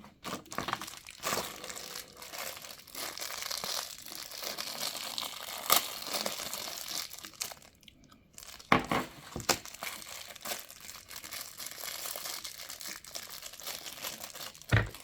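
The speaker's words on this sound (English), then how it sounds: "Everything is in its own little plastic bag." Action camera accessories being pulled from small plastic bags, with continuous close crinkling and rustling of plastic that carries on nearly nonstop, broken by a short pause and a few sharper crackles.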